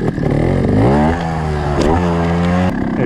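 A trial motorcycle ridden on an indoor practice course, its engine revving and pitching up and down steadily, close and loud throughout with no talking.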